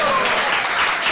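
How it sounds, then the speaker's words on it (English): Audience applause at a lecture for Sri Narasimha Chaturdashi at an ISKCON temple in Ljubljana, a brief, loud, dense burst of clapping filling the room. "let's give them an applause."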